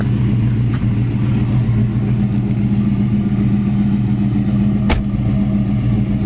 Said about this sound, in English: Exhaust sounds beautiful on it.